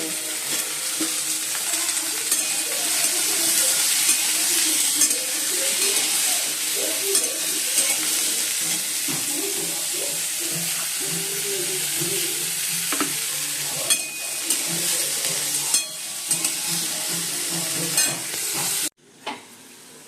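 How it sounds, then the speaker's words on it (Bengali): Luchi puffing and sizzling in hot oil in a pan while being stirred, a steady loud crackle with scraping stir sounds throughout, cutting off abruptly near the end. "বন্ধুরা লুচি বানাচ্ছি"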